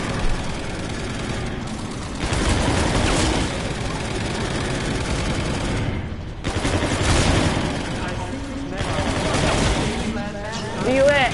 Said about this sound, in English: My machine gun can't kill him.